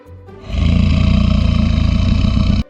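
A crocodile lets out one long, deep, rumbling roar lasting about two seconds, loud and close, with a rough, throbbing low end that cuts off sharply.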